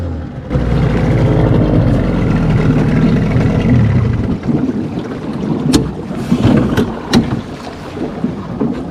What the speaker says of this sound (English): So I've got the motor running, but I can't go super fast because that could hurt my trolling motor.